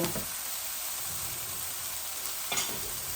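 Leafy greens (shak) sizzle and fry in a pan before spices and fish roe are added, a steady hissing crackle with brief stirring scrapes near the start and around two and a half seconds.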